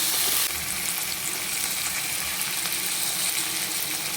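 Tomato frying in a pan with a steady, soft sizzle, fairly faint and close, with no talking.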